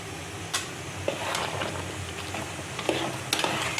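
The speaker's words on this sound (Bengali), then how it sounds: "ফুটছে টকবক করে, দেখুন।" Pickle syrup boiling in a pan, with turmeric stirred in, bubbles and crackles steadily at close range, with a few sharper pops and no one talking.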